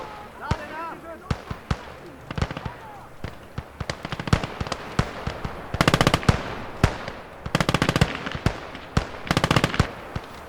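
An enemy machine gun fires in Company of Heroes, sharp cracks and short rapid bursts scattered across the stretch, loud and close, with other battle noise between them and voices calling out.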